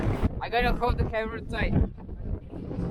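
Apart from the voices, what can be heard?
wind blowing into microphone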